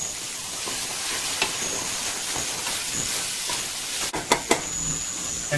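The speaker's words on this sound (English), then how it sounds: "The onions are definitely sweating now." Onions sweat in a pot for Portuguese bean soup, giving a steady, soft sizzling hiss throughout with a few faint clicks and clinks near the end. The sound is close and even, and nobody speaks.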